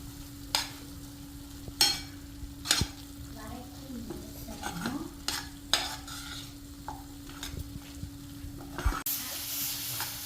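A spoon scrapes and stirs repeatedly in a pan over a soft, steady sizzle of spice paste with coriander powder frying, with intermittent clinks against the metal.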